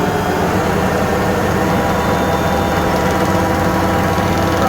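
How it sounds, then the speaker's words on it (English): A Fendt 1167 tractor engine running a grain auger, a steady, dense drone throughout, loud and close, holding a constant rumbling level without clear rises or breaks. "Just start revving up a little bit more here."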